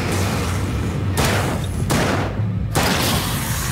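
Bursts of gunfire in the video game Alan Wake: several loud broadband volleys of shots, one after another with short breaks between them, over a low rumbling background.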